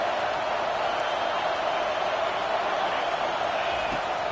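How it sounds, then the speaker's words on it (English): A football stadium crowd roars behind the defense on third down, a steady, dense wall of cheering and noise with no breaks. "Decibels rising as the crowd gets behind this defense on third down"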